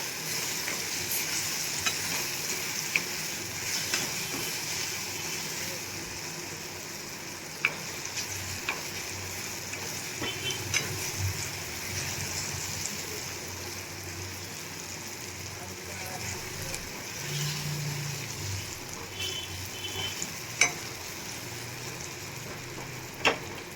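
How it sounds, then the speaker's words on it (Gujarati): Jaggery melting into softened raw karonda relish in a pan, stirred with steady scraping strokes over a continuous soft sizzle, close and moderately loud, with occasional clinks of the spoon. "હવે આપણે એમાં ગોળ એડ કરી દેશું। ગોળને એકદમ સરસ આપણે આમાં ઓગાળી લેવાનો છે 2 મિનિટ માટે।"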